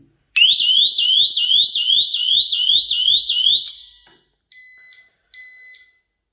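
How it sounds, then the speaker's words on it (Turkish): A Desi Midline wireless burglar alarm, set off by its motion sensor, sounds a loud electronic siren with rapid rising sweeps for about four seconds, followed by two shorter steady beeps. "hareket sensörümüz hareketi algıladığı an direkt cihazımıza alarmı gönderdi"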